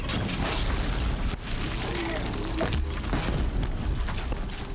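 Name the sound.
sticky bomb explosions in the video game Horizon Zero Dawn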